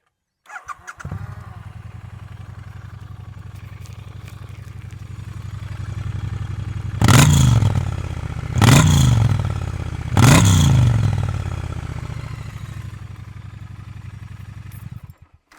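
A high-mileage Triumph Bonneville T100 motorcycle idling with a deep, steady exhaust burble, then three sharp throttle blips rising and falling before settling back to idle.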